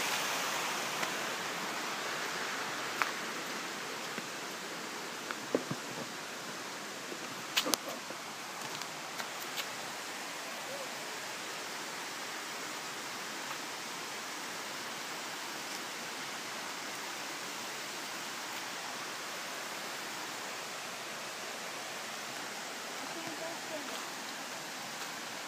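Continuous hiss of rushing water from a stream in El Yunque rainforest, even and steady throughout, with a few brief knocks and faint clicks near the start.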